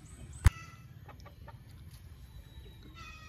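Chickens and roosters cluck softly in the background, with one sharp knock near the start and low farmyard ambience throughout.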